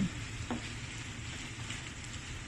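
Frozen shrimp fry in a pan with a steady, even sizzle that holds at close range for the whole stretch, sounding almost like light rain, with no talking over it.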